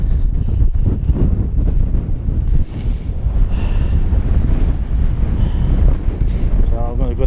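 Strong wind roars steadily and loudly across the microphone, a constant heavy buffeting rush throughout, with faint voices and brief whistling tones.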